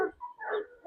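A large Kangal livestock guardian dog gives a single short, close yelping bark, brief and alone without talk.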